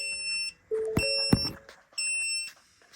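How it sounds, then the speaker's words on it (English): Warning alarm in a Ford Ranger with low coolant, sounding repeated electronic beeps in bursts of roughly half a second, loud and close, with a couple of sharp knocks partway through. "I think it will keep alarming, so it doesn't really stop."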